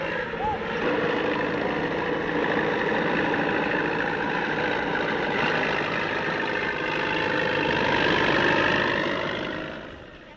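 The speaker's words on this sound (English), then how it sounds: "The husband drives a tractor in the rice fields." A steady tractor engine drones through the rice fields, a continuous mid-distance rumble with broadband mechanical noise that holds level for the whole stretch before easing off at the end.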